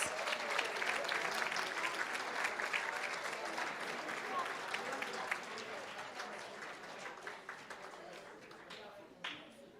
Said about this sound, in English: let's give them one big round of applause.